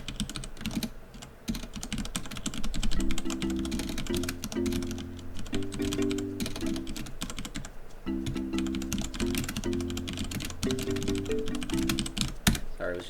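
Fast, irregular clatter of keys on a computer keyboard as someone types a chat message, close and crisp, in bursts over a quiet backdrop with soft game music tones underneath.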